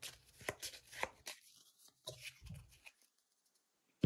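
A deck of game cards is shuffled by hand at a tabletop, with a series of quick, soft riffling and tapping bursts that come close and quiet, then trail off into near silence.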